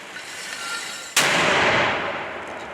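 A single sharp gunshot from a weapon at a Ukrainian frontline position bursts out from a steady noisy background, followed by a long rushing echo that slowly decays.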